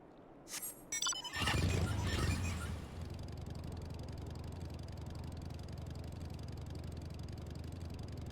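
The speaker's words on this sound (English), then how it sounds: "Electric motorcycles." Electric motorcycle in the game Final Fantasy XIV: a loud mechanical burst and whoosh at the start, then a steady, even motor hum that continues alone at moderate level.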